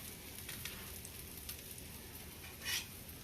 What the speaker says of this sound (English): So onions. I'll put some onions here.